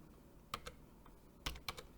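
A computer keyboard clicks out a short command in a few quick keystrokes, close and crisp, in two small bursts of clustered taps over quiet room noise.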